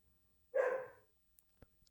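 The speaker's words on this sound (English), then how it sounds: "The dog wants you to get it, Rob." A single dog bark, fairly close and loud, sounds once alone, followed by a few faint clicks and taps in a quiet room.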